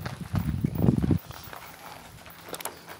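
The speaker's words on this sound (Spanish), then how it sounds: "Y había venido un señor que trae su caballo." Horses walk along a town street in Veracruz, Mexico, their hooves giving a cluster of close, loud clopping steps that gives way to quieter street ambience with a few faint taps.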